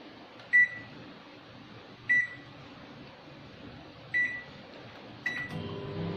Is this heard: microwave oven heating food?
yes